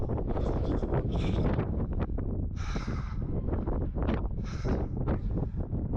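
Strong wind buffets the microphone outdoors at a rocky overlook in Utah, loud rough gusts and rumble filling the whole stretch close up, with no talking heard.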